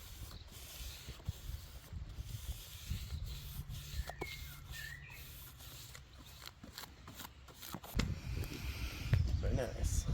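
Steady scratchy rubbing of hand sanding on wood, close and continuous with irregular strokes, growing a bit louder toward the end.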